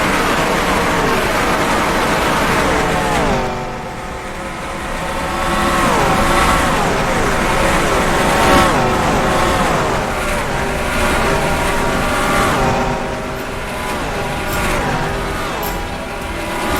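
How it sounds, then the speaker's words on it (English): Stock car engines from the NASCAR Racing 2003 video game roar loudly and continuously, a dense pack of revving motors swelling and dipping as cars sweep past. "whatever faint cry could be heard from the open-wheeled crowd had long been stifled by the mighty roar of the stock car"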